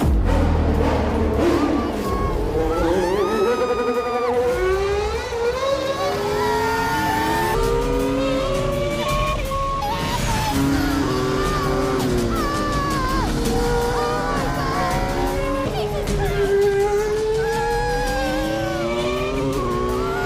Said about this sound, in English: nothing stops her from taking a ride, and thanks to that, Michelle will be able to experience firsthand everything the drivers feel during a race